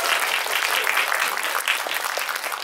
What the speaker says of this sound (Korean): 박수를 드리는 게 맞는 것 같아요.